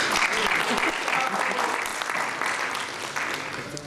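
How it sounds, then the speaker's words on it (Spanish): Audience applause for Sergio at a talk on Z-Wave home automation at a vocational school in Santiago de Compostela, steady dense clapping filling the room throughout, with some voices mixed in. "Un aplauso para Sergio, por favor."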